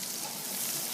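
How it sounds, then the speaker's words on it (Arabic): Onions fry in a pan of melted butter and olive oil with white onion, green onion and garlic, giving a steady close hiss of sizzling with no break. "دوبت ربع قالب زبدة مع شوية زيت زيتون، راح أكشن فيها البصل الأبيض وحضيف له كمان البصل الأخضر والثوم"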